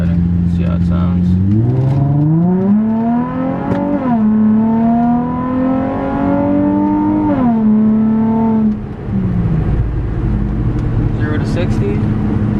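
Nissan 350Z with a Tomei Expreme Ti titanium exhaust accelerating hard, engine note climbing through the revs, easing back, then pulling again, loud and close from inside the car.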